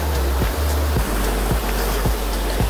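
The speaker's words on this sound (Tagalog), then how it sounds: "Ito na yung pinakapuno ng sapa ng barangay." A flowing stream at Kawa-kawa falls rushes continuously in a broad, steady wash with faint periodic knocks and pulses underneath, close and fairly loud, with no voices.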